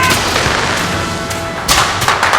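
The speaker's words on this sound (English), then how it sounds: "we're spending most of the day taking pot shots at the students" Staged gunfire on a Les Misérables film set during a barricade battle scene, with sharp broadband cracks and bangs over a dense, continuous background roar of set noise, including a louder burst near the end.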